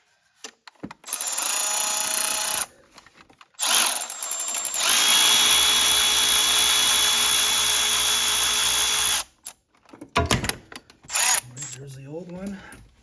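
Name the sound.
removing 16mm tensioner bolt on BMW 325xi engine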